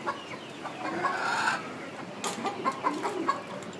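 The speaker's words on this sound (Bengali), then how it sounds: "মাশাআল্লাহ, মুরগিগুলো দেখতে অনেক সুন্দর দেখা যাচ্ছে।" Backyard chickens clucking, a tiger rooster among them, with a burst of scratchy fluttering midway and several short, close clucks following in an uneven rhythm.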